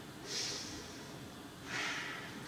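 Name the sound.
deep breathing during a yoga class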